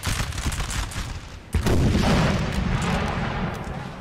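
Artillery volleys in Napoleonic Total War 3, heard as heavy booming blasts that roll through continuous loud battle noise, with a sharp, strong report about midway.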